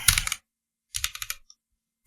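Close bursts of computer keyboard typing while entering Dart code during a programming lecture, two quick clusters of key clicks separated by a silent gap.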